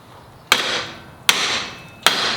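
Three sharp hammer strikes at a steady pace, each ringing briefly with a metallic tail before the next blow.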